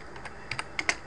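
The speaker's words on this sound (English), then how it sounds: "Now I'll type in" A few quick keystrokes on a computer keyboard typing a short phrase into a Linux text file at the terminal, sparse clicks close up and alone with no talk.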